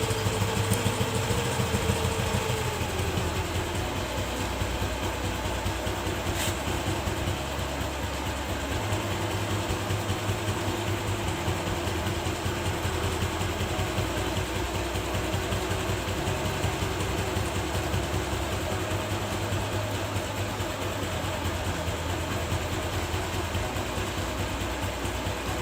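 A TVS Jupiter/Wego scooter engine idles steadily during carburetor tuning, a close, continuous low throbbing putter that holds an even beat for the whole stretch, with a slight shift in tone early on and no talking.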